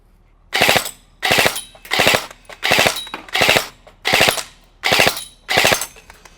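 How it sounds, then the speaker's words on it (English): A G&G CM16 airsoft LMG fires eight evenly spaced short bursts on its full-auto setting, each a sharp, rapid mechanical rattle, loud and close with short gaps between them. "you can activate that burst fire, which is available on your full auto setting"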